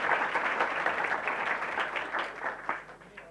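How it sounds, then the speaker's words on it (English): Audience applause rings out for a talk's co-host at a public meeting, a steady wash of clapping from many hands that fades slightly toward the end. "On applaudit Wissam, s'il vous plaît"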